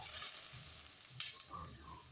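Whole Kashmiri red chillies and red chilli powder sizzle hard in hot oil in a pan for a sambar tempering, a steady close frying hiss with light stirring scrapes and no talk.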